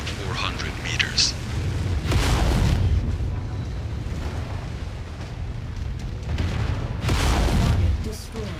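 Loud booming explosions from an enemy mech being destroyed in the MechWarrior 5: Mercenaries video game, two heavy blasts rolling out over a constant low mechanical rumble, with a voice speaking over them.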